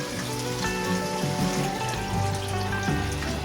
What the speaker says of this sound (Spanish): Ahora vamos a llenar nuestra ollita con agua.